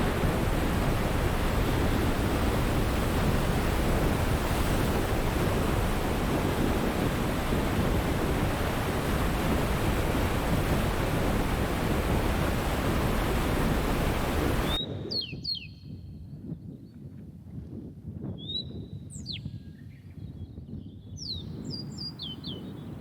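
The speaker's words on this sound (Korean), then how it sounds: "힘찬 물소리가 귓전에서 다가왔다 멀어지며 길을 이어간다." Loud, steady rushing of a mountain stream beside a trail in Kyrgyzstan fills the first fifteen seconds, then drops away abruptly to quieter ambience with bright bird chirps.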